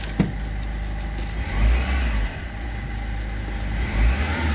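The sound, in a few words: Ford Fiesta engine revving as accelerator is pressed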